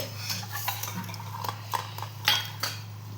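Metal spoon stirring roasted chana dal with cardamom powder and nutmeg in a pan, a few irregular scraping clinks and taps against the vessel, close and fairly quiet over a steady low hum.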